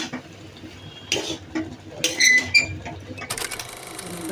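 Beef fried rice with soy sauce being stirred in a pan, with scraping utensil strokes and clinks against the metal, a brief bright scrape midway and a light sizzle beneath.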